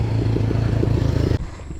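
A motorcycle engine runs loud and close on a trail, a steady pulsing drone that cuts off sharply, leaving a quieter rumble.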